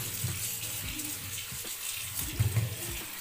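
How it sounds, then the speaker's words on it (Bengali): Malabar spinach leaves are rinsed under running water, a steady close splashing stream with brief handling knocks and sloshes, no one speaking. "আর ধুয়ে নিচ্ছে পুঁই শাকগুলো"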